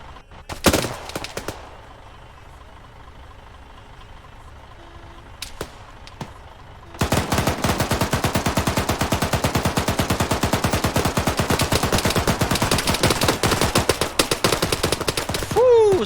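Arma 3 combat gunfire, mostly quiet at first with a few isolated shots, then from midway a relentless loud barrage of rapid automatic fire and explosions rattling on without pause.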